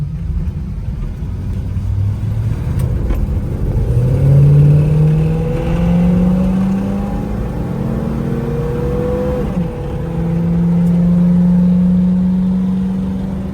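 A 1967 Chevrolet Camaro's 327 V8 engine revs up through rising gears, its deep growl swelling and shifting pitch, then climbing again as the car accelerates.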